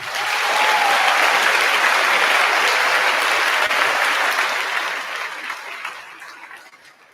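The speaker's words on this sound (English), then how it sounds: "Let's give another round of applause." A large graduation ceremony audience gives a sustained round of applause that stays dense and steady, then tapers off toward the end, with no voices over it.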